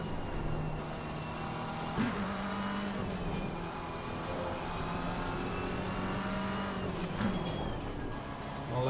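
A race car engine drones continuously while lapping a track in a racing video game, holding a steady high pitch, with two brief dips and recoveries as it shifts or brakes through corners.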